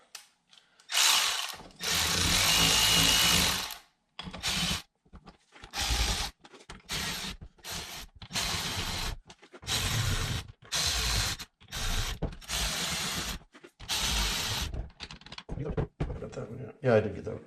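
Bolts being snugged down lightly by hand on a Walker MTGHS mower deck gearbox during repair: repeated short bursts of ratcheting and metallic tool clicks, separated by brief pauses, fairly close and clear.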